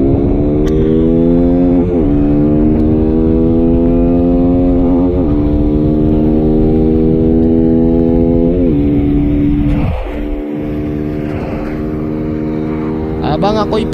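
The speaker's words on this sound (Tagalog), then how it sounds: "Habang ako'y piga-piga na sa motor ko, si Master Clubs naka-chill mode lang." A Rusi Flame 150X motorcycle running all stock at full throttle in a race against a loaded TMX Supremo sounds as a loud, close engine whine rising repeatedly through the gears, then a sharp drop in pitch near the end.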